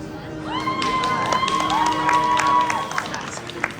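Audience at a school FBLA end-of-year awards ceremony cheering and clapping as names are called, loud and sustained with whoops and shouts rising over a steady bed of applause.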